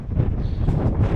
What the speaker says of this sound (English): Wind's picked up slightly